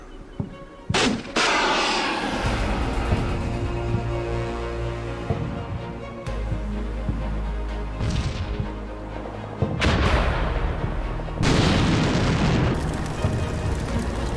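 Artillery barrages in the Combat Mission Shock Force 2 war game strike a mortar position, heavy booming blasts and rumbling impacts arriving in several loud bursts with sharp cracks between them and no voices.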